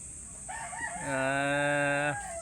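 A pet bird crows like a rooster, a single close, loud cock-a-doodle-doo call rising and held for over a second before cutting off.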